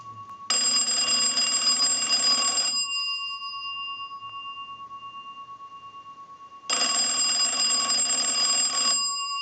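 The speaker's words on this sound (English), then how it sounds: "send a ring cycle like we were getting a call" A loud, old-fashioned telephone bell on a Western Electric wooden wall telephone rings in two long bursts with a pause between them, close and harsh.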